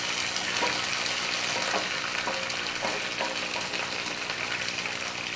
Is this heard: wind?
no